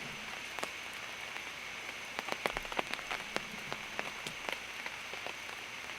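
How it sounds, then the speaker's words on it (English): Rain beginning to fall near a campfire, soft scattered drops tapping and pattering on a surface, faint and irregular over a quiet hiss, with no voices. "And here comes the rain right now."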